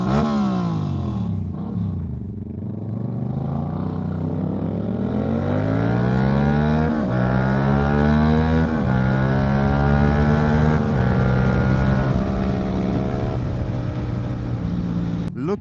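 A Yamaha MT-07 motorcycle engine revs up and down through repeated downshifts, its pitch sweeping in steady climbing and falling steps, loud and close throughout with a continuous droning tone.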